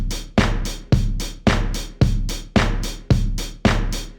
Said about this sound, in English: You can combine 4 on the floor with backbeat, and it sounds like this.